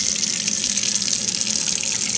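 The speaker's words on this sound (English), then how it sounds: "I'm gonna fill this bowl with the warm water" A kitchen tap runs steadily into a bowl, filling it with warm water in a constant close splashing rush, with no talk.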